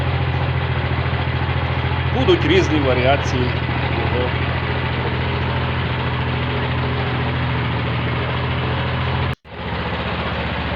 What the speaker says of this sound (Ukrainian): Фактично чути роботу двигуна, глушника, ну, ледве-ледве чути.